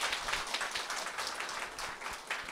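An audience applauds at the close of a lecture in a hall, a steady wash of clapping at moderate volume that runs throughout, with no voices over it.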